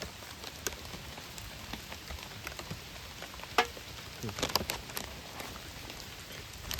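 Steady rain of the season's first downpour falls outdoors during crab catching, a soft continuous patter with scattered sharper drop hits, faint and even, with no voices.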